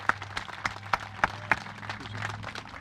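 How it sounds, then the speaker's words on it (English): Audience applause at a softball field dedication ceremony in Waterbury, a spread of claps with a few sharp close hand claps standing out over a steady low hum. "I'd ask everybody to please give a warm round of applause to Mr. Dick Ehrenheim"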